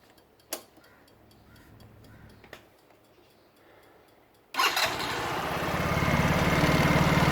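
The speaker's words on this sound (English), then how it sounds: "Hamza, can you start the scooter for me?" A 50cc petrol scooter is started: a few sharp clicks and ticking sounds, then the engine catches abruptly and settles into a loud, steady, close-up idle, with no one speaking.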